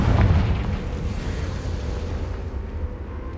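A fiery Confringo spell blast from Hogwarts Legacy erupts loudly at the start, its deep rumbling boom decaying slowly into a lingering roar.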